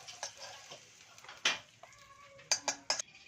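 Fried potatoes being lifted from a pan onto a plate, with several sharp clinks and scrapes of a utensil against metal and crockery, spaced irregularly, close by and no talk.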